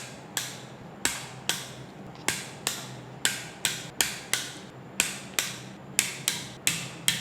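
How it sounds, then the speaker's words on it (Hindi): A torque wrench tightens the cylinder head bolts on a Suzuki Alto 800 engine to 34 newton-metres. Sharp, evenly spaced clicks ring out about twice a second, close and distinct, with no talk. "तो सबसे पहले इन सारे बोल्ट्स को हमें 34 न्यूटन मीटर्स पर टॉर्क करना है।"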